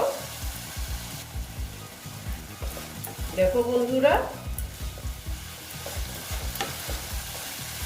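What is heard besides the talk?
spice masala sautéing in a pan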